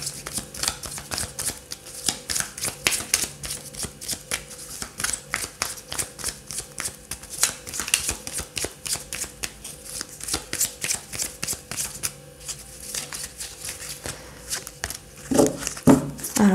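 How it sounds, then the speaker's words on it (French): Tarot cards being shuffled by hand, a long run of rapid crisp riffling clicks and flutters in quick rhythm, close and fairly loud, with a brief bump of handling at the end. "Je vais tirer une carte sur la lune."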